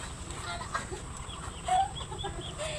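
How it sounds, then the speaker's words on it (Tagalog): Soft chicken clucking in a busy outdoor setting, a few low calls rising briefly above steady background noise. "Lalabas yung mga manok."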